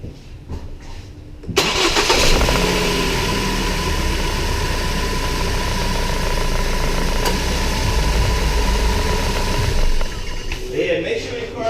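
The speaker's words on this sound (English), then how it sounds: "then I'm gonna start the car. I'm gonna let it run for a second" A 2012-2017 Ford Focus starting after an oil and filter change: a short crank, then the engine catches and settles into a loud, steady idle, with a voice heard briefly.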